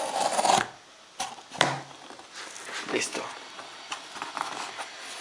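A knife or dagger slicing through a cardboard printer box, with scraping, rasping cuts in short bursts, close by, as someone talks between strokes.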